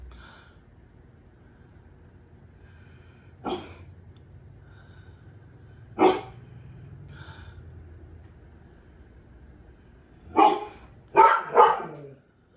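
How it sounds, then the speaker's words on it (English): A dog barks in short bursts against a quiet room: two single woofs spaced a few seconds apart, then a tight cluster of three or four barks near the end. "I'm so sorry about my dog."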